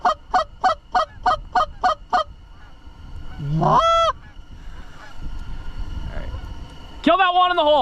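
Canada geese honk in a rapid series of loud, close calls during a snowy late-season December goose hunt, followed by more scattered honks and a burst of noisy calls at the end, with some talk in between.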